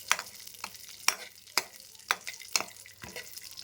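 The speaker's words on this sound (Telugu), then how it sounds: "ఇలా మనం గోల్డెన్ కలర్ వచ్చేంత వరకు వేయించుదాము." Dates frying in a pan while being stirred for Horlicks kheer, with soft continuous sizzling and regular scraping strokes of a spoon about every half second, close and moderately quiet.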